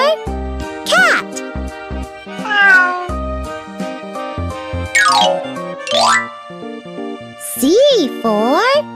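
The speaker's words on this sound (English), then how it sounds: "C for cat." Cartoon cat meows, several drawn-out calls that swoop up and down, sound close and loud over a bouncy children's alphabet tune with light chimes.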